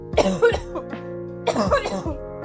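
Two bursts of coughing about a second apart, close and fairly loud, with throaty rasp and no speech.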